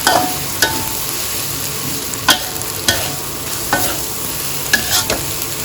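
Fermented pork (naem) with glass noodles and onion stir-fried dry in a pan, with a steady sizzle and a series of sharp spatula scrapes and knocks at irregular intervals, close and loud, with no talking.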